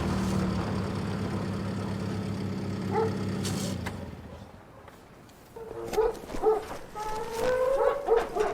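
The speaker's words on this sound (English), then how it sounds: "Watch out for the dog." In a police drama scene, an engine idles at first, then fades. A dog follows with several close, loud barks and whimpering yelps in an uneven burst.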